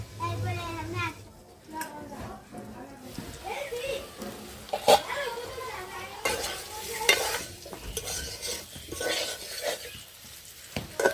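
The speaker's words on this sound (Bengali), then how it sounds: "আলু লাল লাল করে ভেজে নিয়েছি, তুলে নেব" Potatoes fry in oil reused from frying fish, a close sizzle broken by several sharp clinks and scrapes of a utensil against the pan, with a voice talking over it.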